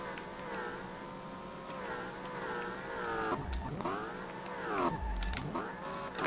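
A budget drift car's engine in a racing game hums and revs steadily, pitch rising and dipping through gear changes, with two deeper dips where the revs drop before climbing again.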